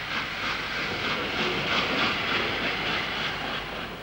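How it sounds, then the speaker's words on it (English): British steam locomotive Evening Star, built in 1960 and still at work, gives off a loud, steady rumbling roar with faint repeating pulses, heard alone without voices. "There had to be a last steam locomotive, and here she is, built in 1960."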